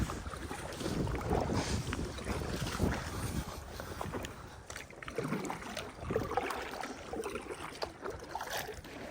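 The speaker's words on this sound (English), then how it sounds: "Oh, I see a boat way out there." A distant motorboat drones far out across Lake Powell, a faint steady hum under gusty wind buffeting the microphone and lapping water near a paddleboard.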